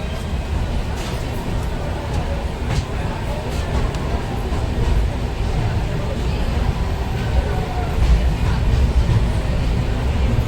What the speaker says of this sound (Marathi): ट्रेन निघाली आहे.